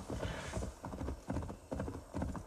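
Rapid, rhythmic hoofbeats of a horse galloping close by in Assassin's Creed Valhalla, in repeating clusters, over a steady wash of background noise.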